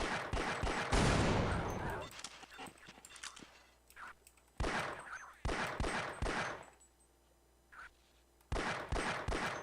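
Bursts of gunfire at a shooting practice in the Half-Life video game, loud clusters of sharp shots separated by short pauses, with an early dense volley and later spaced bursts.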